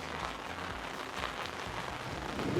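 Steady pouring rain falling onto a road surface, a constant broadband hiss at moderate level with no voices.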